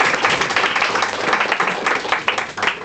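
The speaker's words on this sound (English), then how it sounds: "Give them a round of applause." An audience claps steadily through a close-up magic performance: dense, continuous applause of moderate loudness that holds for a few seconds with no speech over it.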